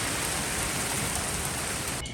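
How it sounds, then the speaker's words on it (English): Heavy rain pours down in a dense, steady roar close by, a continuous hiss of drops on surfaces that cuts off abruptly at the end. "So much rain."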